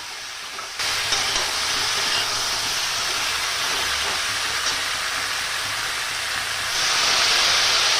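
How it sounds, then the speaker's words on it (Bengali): Fried pointed gourds go into a pan of hot oil, setting off a sudden loud hissing sizzle that holds steady and swells again near the end, close and without voices, for a light vegetable curry with pumpkin and potato. "পটল ভাজাগুলো দিলাম।"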